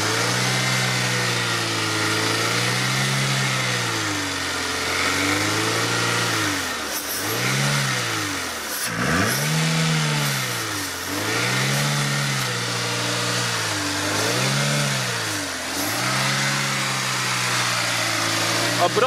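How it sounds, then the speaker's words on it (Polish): Renault car engine revved repeatedly during throttle body cleaning, rising and falling in steady repeated swells from a close idle, with someone talking over it. "obroty trochę trzeba podwyższyć, żeby się więcej uchyliła przepustnica"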